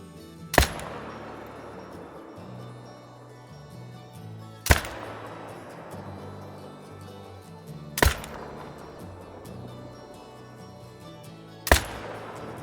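Four sharp rifle shots ring out at spaced intervals in theHunter: Call of the Wild while firing at a practice target, each a loud crack with a lingering echo tail over quiet game ambience.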